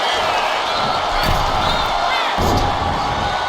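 A wrestling arena crowd roars continuously at a live match, swelling in two louder bursts of cheering over a constant din.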